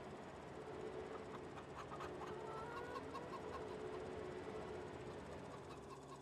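Chickens clucking in the Farming Simulator 22 farm game, a steady busy cackle of several birds over a constant engine-like hum, with no talk.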